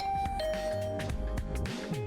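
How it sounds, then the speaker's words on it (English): A chiming doorbell in the video game The Hundred Line: Last Defense Academy rings with a sustained electronic tone over a dense synthesized music bed, loud and close. "I rang the doorbell to Tsubasa's room."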